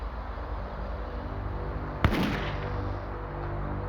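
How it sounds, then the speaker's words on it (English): A single gunshot on a quiet residential street early in the morning, one sharp loud crack with a short rumbling tail, standing alone over a steady dull background hum. "a gunshot shattered the morning silence"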